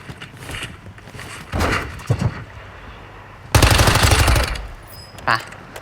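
Warzone Mobile gunfire crackles in short bursts, then one long sustained volley of rapid automatic shots, with quieter mechanical clicks and rattles in between.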